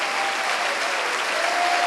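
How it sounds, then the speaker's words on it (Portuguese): A church congregation breaks into loud, sustained applause, dense overlapping clapping from many hands filling a large worship space at an even level throughout. "vamos dar uma grande salva de palmas para a palavra do Senhor Jesus"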